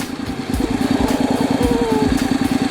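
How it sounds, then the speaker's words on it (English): Honda DCT motorcycle engine idling in gear with a steady low mechanical thrum and even rhythmic pulses, close and continuous while the rear tire turns. "Yes, the engine is running"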